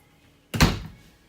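A drawer in a fifth-wheel RV kitchen shuts with a single dull thunk, close by and fading fast into a quiet room.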